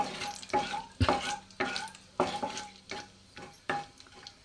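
Masala for a paneer cashew butter curry frying in a pan, with intermittent stirring scrapes every half second or so over a low sizzle, close and moderately loud.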